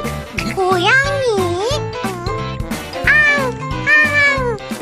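A child imitates a cat with repeated, rising and falling sung meows, close and loud, with other children's voices and talk around them.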